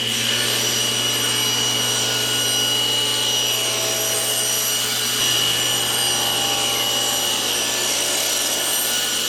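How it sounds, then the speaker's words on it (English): A table saw with a sled runs continuously while cutting tapers along the sides of wooden panels, a loud steady whine with a constant hum and a grinding rub of blade on wood. "In order to cut the tapers on each side, I used carpet tape to attach a small wedge to my table saw sled fence."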